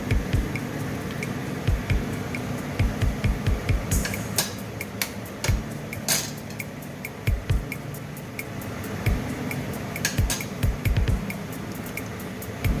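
Fish sauce being stirred into bulalo beef shank soup in a pot, with a spoon clinking and tapping against the pot in irregular bursts over a soft bubbling background.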